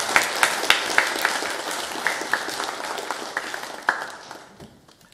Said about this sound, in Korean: 우리 할렐루야 찬양대 함께 더 크게 박수하겠습니다.